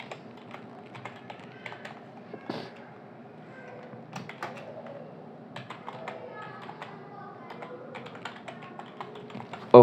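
Keys clatter on a computer keyboard as a folder name is typed, giving a quick, irregular run of close, crisp taps with short pauses and one louder knock.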